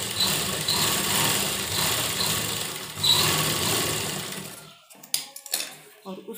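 A sewing machine stitches a pressed seam on a sleeveless blouse, giving a steady, close mechanical hum for about five seconds before it stops. A few sharp clicks and handling knocks follow.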